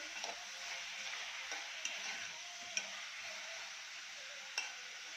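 Onions and chicken breast fry in a pan with a soft steady sizzle, broken by occasional light clicks and scrapes of a spoon stirring, close and fairly quiet with no voices.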